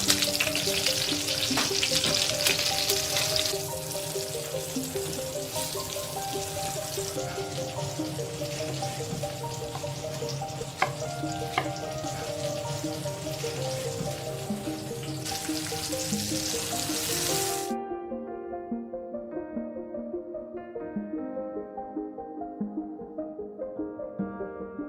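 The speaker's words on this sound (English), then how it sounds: "So here we need to saute it quite well for a few minutes, and just a pinch of salt" Ingredients for a seafood paella sauté with a pinch of salt in a hot pan, a steady close sizzle and crackle under background music that carries on alone after the sizzling stops.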